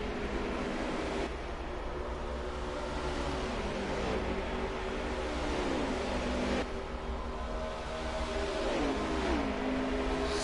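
Racing trucks roar at a televised truck race, one engine note sweeping up and down through gear changes, heard from a distance under a broad, windy wash of crowd and track noise with no talk.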